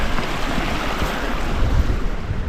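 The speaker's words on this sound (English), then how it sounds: "And now we're following this lovely little creek." A small mountain creek on a hike, its steady close rushing and gurgling water mixed with wind noise on the microphone, with no talk.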